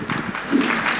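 An audience at a cancer talk applauds a speaker, a dense wash of clapping at steady volume with a voice faintly mixed in.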